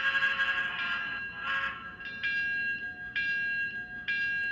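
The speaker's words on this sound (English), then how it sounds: "You have access to the bell," An N scale BLI T1 Duplex 4-4-4-4 model locomotive rings its electronic bell in repeated metallic strikes, a steady run of clangs spaced roughly a second apart, fairly faint and heard alone with no talking.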